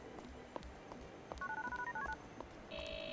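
Niko dials a phone to call Roman in GTA IV: a quick run of short, evenly spaced keypad tones plays over low game ambience, followed by a steady electronic tone at the end, all fairly faint.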